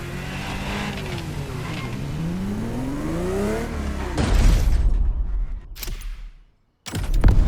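A Ferrari GTO engine in the racing game The Crew Motorfest revs up in rising, climbing sweeps, then settles into a heavier low roar with a few sharp bursts before cutting out and briefly returning.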